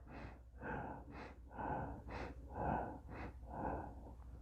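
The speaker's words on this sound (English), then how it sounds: "So inhale, exhale" Deep, audible breaths drawn in and pushed out during a seated chair yoga session, several slow rhythmic inhale-exhale cycles, close and fairly soft, with no speech.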